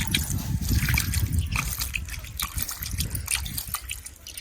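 Water trickles and splashes close by as it drains through a basket of freshly washed fenugreek leaves, an uneven, gurgling dribble that fades toward the end, with no voices.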